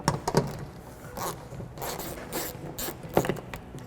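Ratchet with a 10mm socket on an extension working a bolt loose, a few quick bursts of clicking and scraping clicks, close and fairly faint, with no talk.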